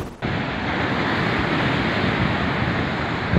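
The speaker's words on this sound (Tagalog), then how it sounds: "nawasak ng malakas na alon ng bahagi ng seawall" Strong typhoon waves crash against a seawall in Pagudpud, Ilocos Norte, a loud, continuous roar of surf and wind noise filling the whole clip without talk.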